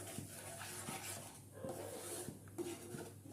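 Palm pulp mixed with sugar and salt is stirred in a pot, with a steady scraping and rubbing of a spoon against the metal and a few soft knocks, close and continuous with no talk.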